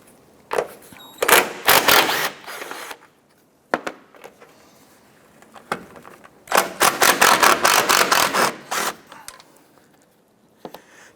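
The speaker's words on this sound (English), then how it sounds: "Using a 15mm socket, we're going to go ahead and remove the 3 nuts on the top of our strut assembly." Ratcheting a 15mm socket to remove the top strut mount nuts on a 2006-2013 Chevrolet Impala, loud bursts of rapid clicking in two main runs separated by quieter pauses with a few isolated clicks.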